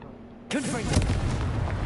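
A Confringo fire spell in Hogwarts Legacy bursts with a sudden loud blast, followed by a swooping whoosh and a crackling, rumbling tail that stays loud to the end.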